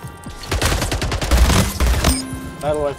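Paddle rifle gunfire in a video game: a fast, loud burst of repeated shots packed tightly together, ending in a sharp crack, with a voice breaking in near the end.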